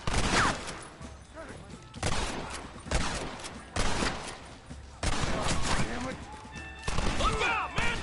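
Dense gunfire in the Western video game Red Dead Redemption, volleys of loud shots cracking in repeated bursts across the whole stretch, with shouted voices mixed into the firefight.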